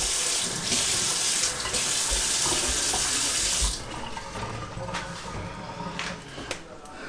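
Tap water runs loudly into a kitchen sink while leek is rinsed, a steady close hiss that stops partway through, followed by quieter handling noises and small drips.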